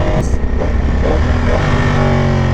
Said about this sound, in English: Yo, this bike is obnoxiously loud